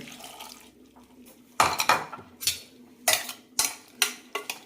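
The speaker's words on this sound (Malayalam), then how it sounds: "അരക്കപ്പ് വെള്ളം കൂടി ഒഴിക്കാം" Half a cup of water pours into a pressure cooker of cowpeas and tuber, with clattering clinks and knocks of cookware in short bursts close by.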